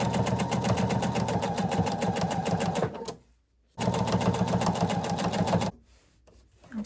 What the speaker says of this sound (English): And do a fixed stitch or a back stitch, and sew that one line all the way around.